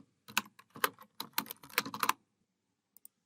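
Fingers tap out a short message on a computer keyboard in quick bursts of crisp keystrokes, close and clear, followed by a pause and two final isolated taps.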